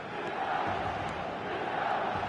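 A large football stadium crowd in eFootball roars in a steady, dense wash of cheering and chanting that holds at an even level throughout.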